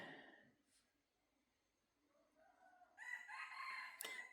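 A bantam rooster crows faintly at a distance near the end, a short strained call rising out of quiet rural background, followed by a sharp click.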